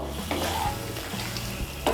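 Pointed gourd being stirred with spices in a hot pan, giving a steady close sizzle with soft scraping strokes and a sharper clink of the utensil against the pan at the end.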